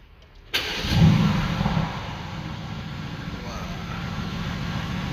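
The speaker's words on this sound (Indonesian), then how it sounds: "tekan start stop engine button yang ada di sebelah sini untuk menyalakan mesin V8-nya" A Mercedes-AMG GT S V8 engine fires up with a sudden loud bark, flares briefly and settles into a deep, steady idle, close by.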